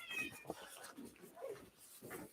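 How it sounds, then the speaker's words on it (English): A cat meows several times indoors, short wavering cries close by but fairly quiet, with low background murmur. "the meow you hear is not my stomach, it's a cat"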